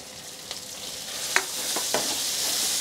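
Chopped tomatoes frying with ginger, garlic and onion in a pan on medium flame, a steady soft sizzle with a few faint scrapes of stirring.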